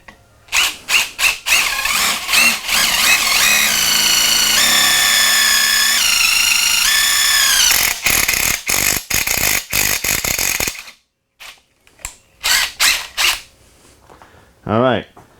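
DEWALT drill driving with a 10mm bit, loud and close, running in repeated bursts: short revs, a long sustained whine with shifting pitch, then more quick triggers separated by brief pauses.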